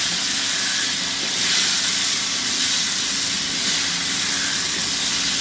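Slices of sweet pumpkin fry in oil, making a loud, even, continuous hiss of sizzling that barely changes, with no talking.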